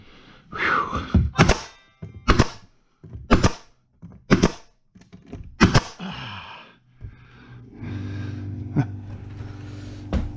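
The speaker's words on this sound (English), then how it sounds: "Air compressor kicked on." An air compressor in a wood shop starts up after a run of sharp thunks from pneumatic nail and staple guns, settling into a steady low motor hum that holds to the end.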